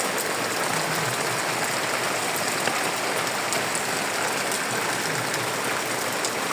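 Rain falls steadily in Bhola, Bangladesh, a dense, even hiss that fills the whole clip without pause.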